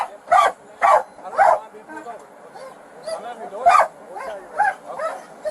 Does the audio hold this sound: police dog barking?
yes